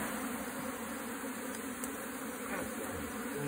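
Honey bees stream out of an opened hive box during a honey super inspection, their steady dense buzzing continuous and close throughout.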